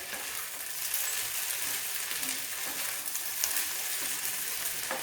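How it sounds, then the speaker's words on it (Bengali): Sabudana pulao stirred with a spatula in a wok, a continuous soft sizzle with scraping and stirring strokes, fairly quiet and close, no voices. "এইভাবে বারে বারে খুন্তি দিয়ে সাবুর পোলাওটাকে নাড়াচাড়া করতে হবে"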